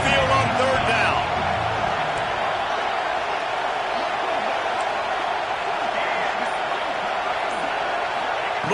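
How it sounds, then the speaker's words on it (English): Home crowd at a college football game roaring in a steady, loud wash of cheering as the defense faces third down, with a few sharper whoops near the start and a commentator's voice over it. "Here comes this home crowd as the defense tries to get off the field on 3rd down."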